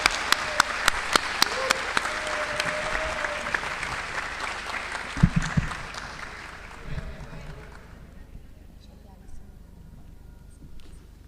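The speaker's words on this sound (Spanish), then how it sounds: "Damos un aplauso a Cintia." An audience at a national social work congress in Argentina breaks into applause for an introduced speaker: a few sharp early claps swell into dense clapping that tapers off after about eight seconds into quiet room tone.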